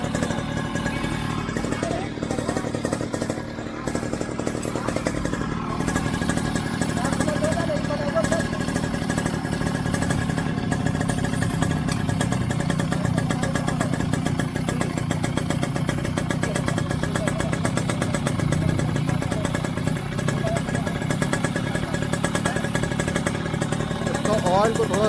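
A Yamaha RX100 two-stroke motorcycle idles after an engine rebuild, its exhaust putting out a steady, close, loud burble with uneven clattery pulses that continue without break for the whole stretch.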